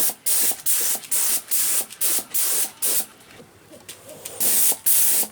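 A spray gun applies clear varnish to a repaired car bumper in repeated loud hissing bursts, each about half a second long, separated by short quiet gaps.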